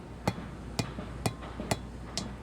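A big hammer taps a wheel bearing seal onto the spindle of a 1997-2004 Ford F-150 4.6 2WD. Five sharp metallic taps ring out at a steady, unhurried rhythm over faint background noise.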